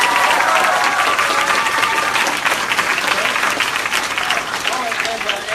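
An improv show audience claps steadily to cast a vote, with dense, sustained applause filling the room, fairly loud throughout and easing slightly toward the end.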